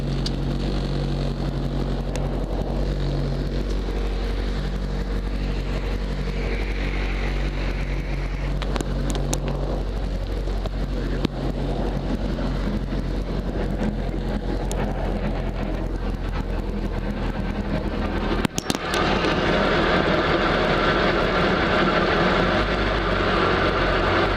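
Light aircraft engine idling steadily at low throttle on the ground at Hayward before a first flight, a constant close droning hum with wind buffeting the microphone and a brief crackle near the end.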